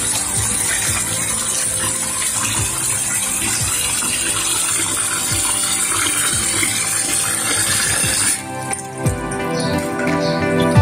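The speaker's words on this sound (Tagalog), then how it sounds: "tubig sa gripo." Chlorinated tap water runs from a faucet in a loud, steady close gush, its splash changing pitch briefly near the end as the stream shifts, with no talking.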